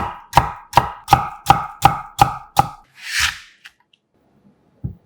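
A knife cuts cucumber flesh into thin julienne strips on a board, seven crisp, evenly spaced chops in quick rhythm, then a softer brushing swipe and near silence, ending with one more light tap.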